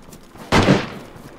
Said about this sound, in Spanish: El disparo sé quién fue